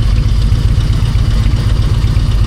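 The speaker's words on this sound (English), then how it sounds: "I want to keep the engine going now." Car engine idling after starting on a rested battery on a mountain road trip through the Rif in Morocco, a loud, close, steady low rumble with faint clatter and no talk.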